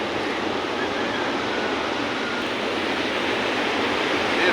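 Seawater surges over the shore during a sea flood, a steady, loud broadband wash of surf with no distinct breaks, constant throughout and close by.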